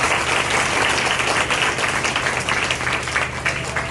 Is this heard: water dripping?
no